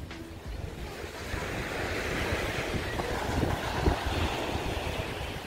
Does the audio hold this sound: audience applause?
no